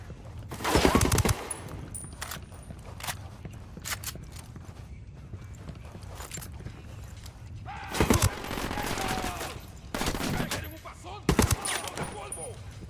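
Gunfire in Ghost Recon Wildlands comes in several sharp bursts spread across the scene, loud volleys separated by quieter stretches with hoof-like clatter and faint voices between.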